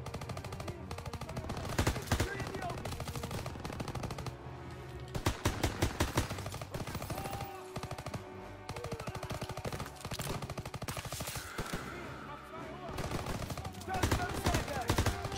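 Sustained machine gun fire in a World War II Call of Duty battle, long rattling bursts with scattered gunshots throughout, loud and continuous, with combat noise layered underneath.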